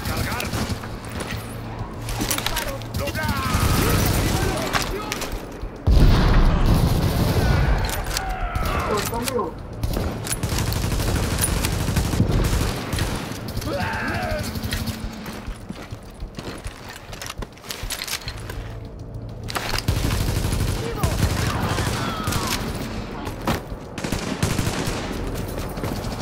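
Rapid bursts of automatic gunfire from the Tom Clancy's The Division video game during a co-op wave fight, repeating loudly over a busy bed of in-game effects with no clear breaks.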